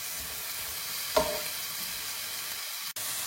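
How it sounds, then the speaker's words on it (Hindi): Onion fries slowly in a pan, giving a soft, steady sizzle with a brief stir near the start and a sharp click near the end. "तो इसको अब हम आस्ता आस्ता भूनते हैं।"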